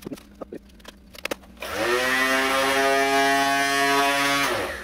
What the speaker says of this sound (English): I can screw up, you know, minimally with a power sander